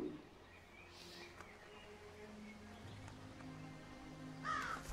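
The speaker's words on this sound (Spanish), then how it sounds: "Esto es un cuervo, por cierto." A crow caws faintly at a distance a few times over a quiet, low background hum.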